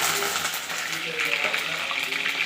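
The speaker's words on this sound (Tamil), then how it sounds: "கரண்டியில் லைட்டாக தண்ணி இருந்துட்டு தெரிக்குது" Prawn 65 frying in hot oil, with water dripping from a ladle spluttering and crackling in the pan; a steady busy sizzle runs throughout, close and fairly loud.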